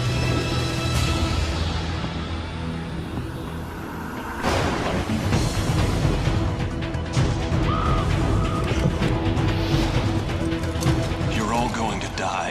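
A crow caws amid a dense, loud mix of dark music, rumbling effects and other sounds, its calls only partly standing out from the busy backdrop.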